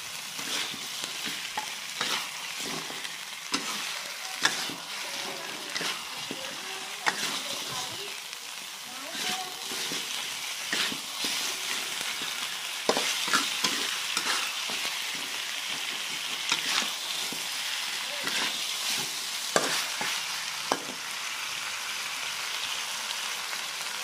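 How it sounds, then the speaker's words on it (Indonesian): Chicken feet fry with broth powder and salt in a pan, giving a continuous crackling sizzle like light rain, with frequent stirring scrapes and occasional sharper clinks throughout. "Kemudian kita masukkan kaldu bubuk beserta garam. Lalu kita aduk-aduk."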